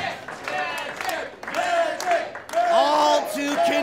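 Wrestling arena crowd cheering and whooping in rising bursts, loud and continuous, with shouts and some clapping mixed into the roar.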